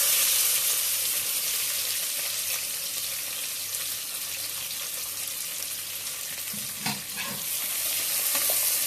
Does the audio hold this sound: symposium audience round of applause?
no